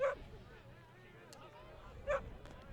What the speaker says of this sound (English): Got some canine fans on the sideline, as you may hear in the background.